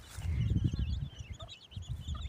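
Four small chicks peep thinly around their hen out on a farm field, the high chirps scattered and close, over a low, rumbling background.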